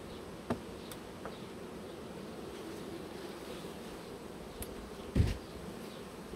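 Honey bees in an opened, swarmed hive whose queen has not returned from mating, a dense continuous buzzing hum close by, steady throughout with a couple of brief knocks from handling the hive.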